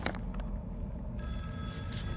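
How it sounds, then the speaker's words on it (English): In the Silent Hill 2 Remake, a telephone bell rings briefly and faintly beneath a heavy, rumbling ambient drone, one short ring burst with no talking. "let's answer the phone."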